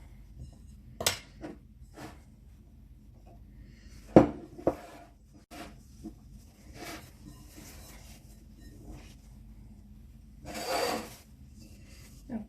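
Bread dough for a coconut loaf being worked by hand with flour, giving soft rubbing, slapping and scraping sounds with a few sharper knocks against a bowl or counter, close and fairly quiet, with no talking.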